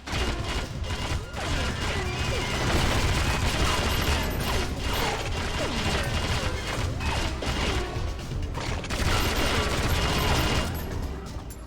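Rapid gunfire in the James Bond 007: Agent Under Fire shooter game, a dense, continuous clatter of shots and mechanical clicks mixed with game effects, loud and sustained throughout.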